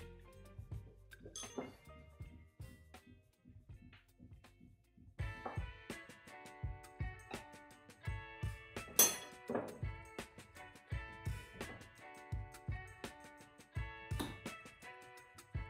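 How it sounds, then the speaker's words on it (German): Metal tire levers clinking as they are set against the front wheel rim of a Xiaomi M365 Pro electric scooter beside the valve hole, a run of sharp, close metallic taps and clicks with no talk. "Anschließend platziere ich einen Reifenheber rechts neben dem Ventilloch auf Höhe der Schraube, dann einen weiteren auf der linken Seite."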